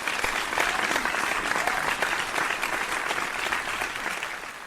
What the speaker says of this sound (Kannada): ಈ ಮಾತಿಗೆ ಒಂದು ಚಪ್ಪಾಳೆ